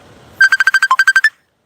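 A mobile phone ringtone plays a quick run of about ten bright, evenly spaced electronic beeps, loud and close, then stops abruptly and leaves silence.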